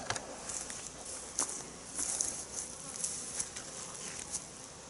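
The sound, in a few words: honeybees buzzing around a beehive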